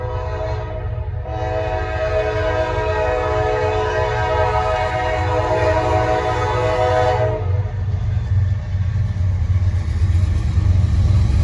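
Norfolk Southern freight train hauling intermodal cars rolls past at night, its horn blaring in a long loud chord for several seconds over a continuous heavy rumble of wheels and cars that persists after the horn stops.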